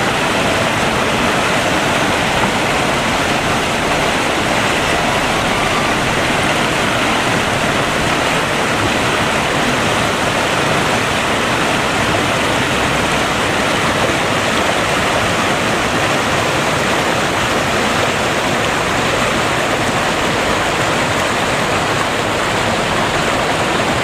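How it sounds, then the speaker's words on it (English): A triple waterfall in the Smoky Mountains of Tennessee pours in a constant loud, close roar of rushing water, steady and unbroken with no voices. "It's a nice triple waterfall."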